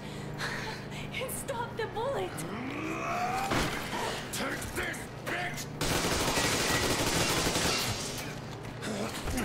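Rapid bursts of gunfire from the video game Metro Exodus crackle over continuous game sound, with a steady low hum underneath and voices talking throughout.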